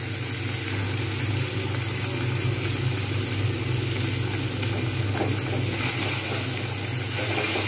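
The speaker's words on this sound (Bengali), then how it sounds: "পনির যদি ভালোভাবে না ভাজি তাহলে কিন্তু টেস্ট হয় না, যার জন্য আমাকে পনিরগুলোকে খুব ভালোভাবে ভেজে নিতে হবে।" Paneer cubes fry in a pan for a Kabuli chana paneer dish, giving a steady close sizzle and crackle of hot oil that runs continuously with no talk.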